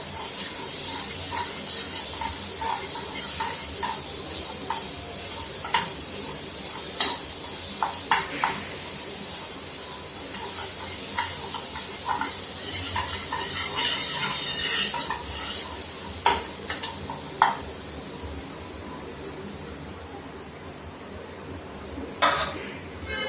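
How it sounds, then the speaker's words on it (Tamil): Ground masala paste stirred in hot oil for papad masala, a low sizzle under repeated scraping and clinking of a spoon against the pan, with sharper knocks now and then, close and steady, and no one speaking. "ஆயில் சூடானதுக்கப்புறம் நம்ம அரைச்சி வச்சிருக்க பேஸ்ட்டை இதில் சேர்த்துடலாம். சேர்த்து நல்லா மிக்ஸ் பண்ணிக்கலாம்."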